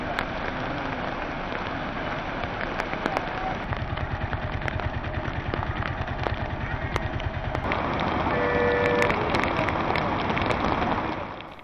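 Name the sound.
heavy rain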